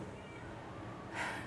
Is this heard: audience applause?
no